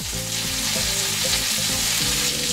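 Italian meatballs sizzle steadily in a hot pan while being browned and turned, a continuous close frying hiss with occasional scraping and stirring knocks.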